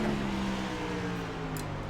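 A NASCAR stock car in the iRacing video game, racing at Watkins Glen, drones steadily nearby with its engine note sliding slightly downward as a car runs alongside.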